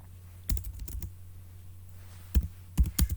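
Quiet keystrokes on a computer keyboard come in a few short bursts of clicks, then a firmer tap like the enter key, set against a steady low hum.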